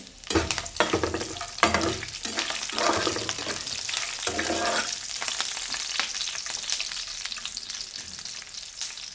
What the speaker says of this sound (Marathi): हिरव्या मिरच्या टाकून घ्यायच्या आहे, असे तुकडे करून ह्या पद्धतीने